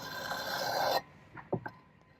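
A cheap knife is drawn across a tile sharpening surface in one long, steady rasping stroke, followed by a few short, lighter scrapes, close and quiet with no voices.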